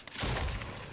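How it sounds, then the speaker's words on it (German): A burst of rapid gunfire from a video game, loud and close for about a second, no voices. "Oh, ich habe es daneben geschossen, super."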